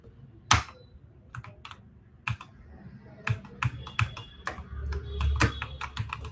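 Keys on a computer keyboard with a faulty V key, tapped in short irregular bursts with a few louder clacks, close by and alone without talk.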